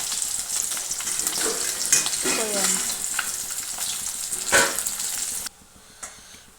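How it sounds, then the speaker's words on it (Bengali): Pieces of rohu fish fry in hot oil, a loud continuous sizzle with occasional turning and spatter sounds, then dropping sharply quieter near the end. "আবার মাছটা উল্টে আর এক পিঠ সুন্দর করে ভেজে নেবো"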